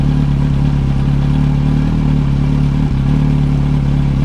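A 2003 Yamaha R1 sport motorcycle engine after a fuel pump replacement, running steadily close by with a strong low droning hum and a brief dip near the end, loud and alone without talk.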